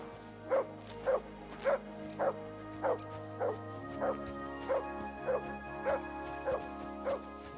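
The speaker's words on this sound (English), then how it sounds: "Here, Mutt" Dog in the medieval role-playing game Kingdom Come: Deliverance II barking repeatedly in a steady rhythm, about a dozen evenly spaced woofs at moderate distance over a low game ambience hum.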